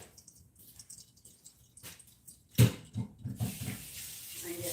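Water poured from a mason jar through a small kitchen sieve while making pozole rojo, a short splashing trickle with drips that starts abruptly partway through after a quiet stretch, close and moderately loud.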